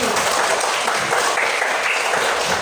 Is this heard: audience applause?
yes